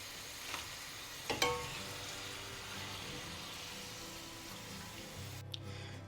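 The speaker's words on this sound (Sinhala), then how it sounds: "විනාඩි 5ක් 6ක් වගේ කාලයක් හොඳට මේක හොඳට ෆ්‍රයිට් කරගමු." Potato slices fry in hot oil for homemade crispy chips, a steady low sizzle running throughout with a couple of brief clinks near the start and a short knock toward the end, no one speaking.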